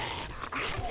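Dogs in the video game 7 Days to Die bark and yip in quick, harsh bursts, loud and close amid a busy game mix, with no talking.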